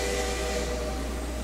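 A K&L Trainz CN Steamtown X10a 4-6-4T model steam locomotive hisses with a steady, close, even rush of steam and a low hum underneath, with no talking.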